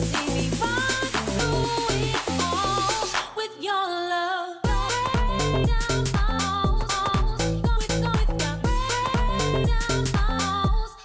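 Garage house track built in Maschine, with dense punchy drums, bass and bright chopped melodic stabs; a short breakdown with sustained tones near 3–4.6 s, then the full groove slams back in, loud and steady with no talking.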